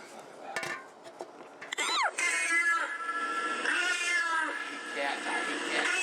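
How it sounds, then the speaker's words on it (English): A cat meows loudly and drawn-out, rising and falling wails up close, with clattering dishes and a voice talking nearby. "All them goddamn cats do is lay around and go, meow, meow, meow."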